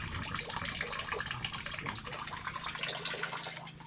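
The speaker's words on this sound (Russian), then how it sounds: "Вода откачивается без проблем" A steady, continuous rush of water runs as rainwater is pumped out of a flooded sewer pit next to groundwater, close and even throughout, with no speech.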